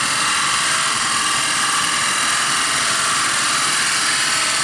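Fine 180 grit sandpaper runs over a turned wooden plate under very light pressure, giving a steady, loud hiss with no pauses and no voices.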